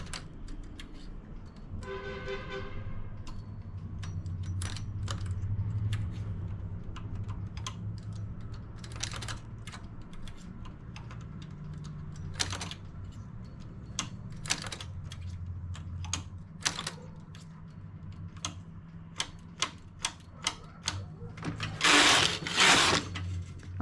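Knitting machine working ribbed trousers, with rapid, irregular clicking and clacking of the carriage and needles over a low background hum and a sharper burst of rattling near the end.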